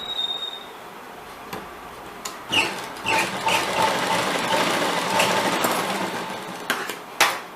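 A sewing machine stitches the shoulder seam of a kurti in several short runs separated by pauses, a fast whirring stitch close by and moderately loud, with no talking.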